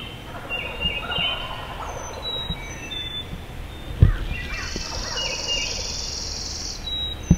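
Wild turkeys gobble in the distance during a spring turkey hunt, several faint, broken calls carrying over a steady bed of insect and bird chirping, with a couple of sharp nearby knocks.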